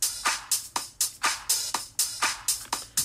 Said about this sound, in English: So real nice solid sounding drums.